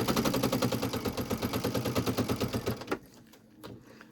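A loud sewing machine stitching a zipper pouch runs in a fast, steady mechanical rattle for about three seconds, then stops, leaving quiet with a faint click.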